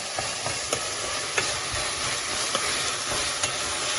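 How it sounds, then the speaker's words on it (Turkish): Chicken shish skewers fry in a pan, a constant crackling sizzle broken by several soft knocks and scrapes as the skewers are turned, close and steady with no talk. "Kızarmaya bırakıyorum çevirerek arada."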